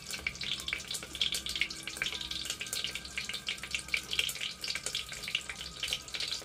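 Sausages fry and spit in hot oil in a pan, a dense steady sizzle with rapid crackling pops throughout, fairly close and continuous with no voices.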